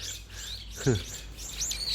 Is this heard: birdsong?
yes